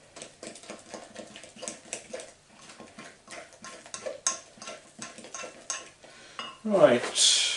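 Rapid, rhythmic clinking of a fork whisking batter against a bowl, close and crisp, repeating steadily in quick strokes before a louder scraping clatter at the end.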